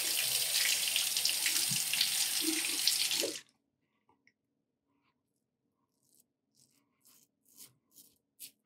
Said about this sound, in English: I'm gonna rinse that off.